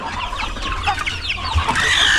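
Several chickens cluck and chatter busily up close, a dense flurry of short clucks with higher squawks near the end.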